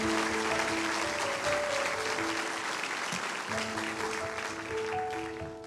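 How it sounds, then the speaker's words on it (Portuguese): A church congregation gives a warm round of applause after a closing prayer, steady clapping with a few sustained musical notes drifting underneath, fairly quiet and even throughout. "Dá uma linda salva de palmas."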